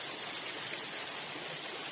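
Burhanköy Creek near Salihli, Turkey, flows steadily, a soft, even rush and burble of water with no voices or other sounds.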